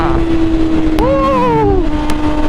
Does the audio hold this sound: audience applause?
no